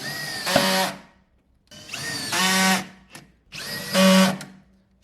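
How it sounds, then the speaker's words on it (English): A power drill bores 10 to 12 mm clearance holes in wood for a workbench build. It comes in three close, loud whirring bursts separated by short pauses. "I've drilled all these other holes here from 10mm up to 12mm as clearance holes."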